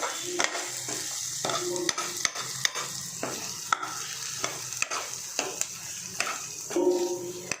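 Spiced biryani masala with chilli powder and turmeric being stirred in a pan, repeated spoon scrapes and taps over a steady sizzle, close up.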